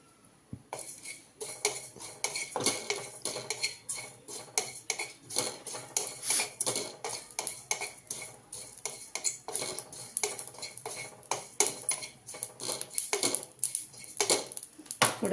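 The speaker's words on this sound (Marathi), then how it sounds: "जिरे भाजून घेऊया" Cumin seeds roasting in a hot kadhai, with a quick, irregular scraping and clinking of a metal spatula against the pan, close and fairly quiet, continuing throughout.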